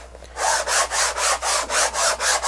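Hand sanding of a homemade wooden canvas frame, a steady back-and-forth rasp in nine even rhythmic strokes, close and clear with no talking.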